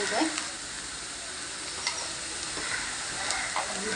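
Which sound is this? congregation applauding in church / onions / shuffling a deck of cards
onions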